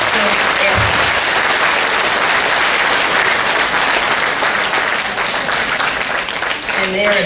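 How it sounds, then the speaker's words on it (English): An audience at an elementary school graduation gives sustained, loud, dense applause from many hands, with a few voices mixed in near the end. "we just like to give these young folks a round of applause for that extra"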